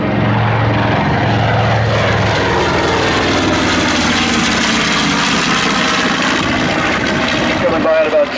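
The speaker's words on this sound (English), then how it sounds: "Coming by at about 220 miles an hour. The top speed of the B-25 close to 300 miles an hour." A World War II B-25 bomber makes a high-speed pass at about 220 mph at an airshow, its propeller engines roaring loud and steady throughout, with the pitch dropping as it passes.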